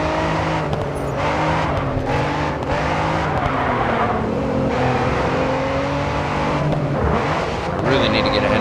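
Race cars in the racing game Grid 2 hold a steady, loud engine drone with shifting revs and occasional tire squeals, while a voice talks over the driving.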